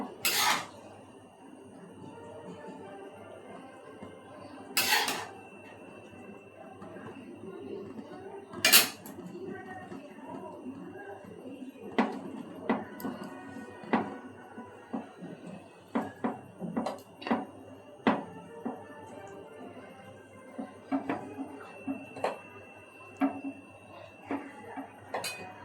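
Chicken biryani is layered into a pot, with scattered metallic clinks and clatters of utensils against cookware, some sharp and loud, others light, under steady background hiss and occasional talking.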